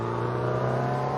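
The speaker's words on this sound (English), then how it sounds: "Shifting down, diving up the inside here using our more nimble car." Race car engine in Assetto Corsa on the 1960s Marlboro Motor Raceway, droning loudly and steadily with a strong low hum and rising revs as it shifts down, no voices over it.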